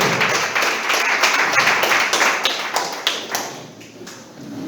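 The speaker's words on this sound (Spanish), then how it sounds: "Dale un aplauso al Señor" A church congregation claps together in sustained, dense applause that stays loud through most of the stretch, then thins into scattered claps near the end.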